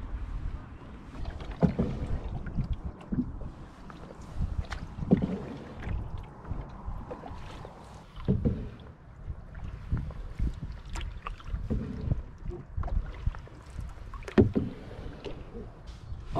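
Canoe paddles dip and pull through lake water in the Lake District during a solo fishing trip, a soft, irregular series of splashes and gurgles close by, with light wind in the background and no talking.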